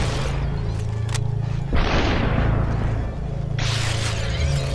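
Automatic and pistol gunfire in the video game Superhot: loud game combat with a deep booming blast and shattering crash near the middle, over a constant low droning hum, with no talking.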